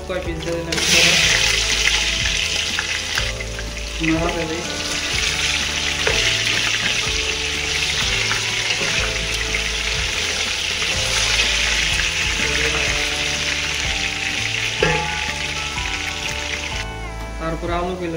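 Potato pieces fry in hot oil for a home chicken dish, giving a steady bright sizzle that runs through the whole stretch over a loud background of melodic music.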